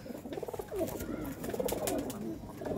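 Pigeons at a pure-breed sale coo in repeated throaty, warbling rolls, several soft calls overlapping close by without speech.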